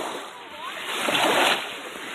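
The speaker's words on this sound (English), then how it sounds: "Oh, big wave!" Ocean waves break and splash at a Cape Cod beach on a warm Fourth of July night, a broad wash of surf swelling louder midway then easing, with a voice speaking over it.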